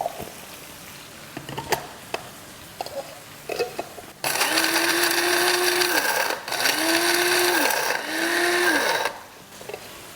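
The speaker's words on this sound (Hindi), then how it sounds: "ब्लेंडिंग जार में। और इसको दरदरा सा पीस लेंगे।" An electric blender jar coarsely grinds ingredients in three loud, whirring bursts, each spinning up and then winding down, after a few seconds of quiet kitchen clatter.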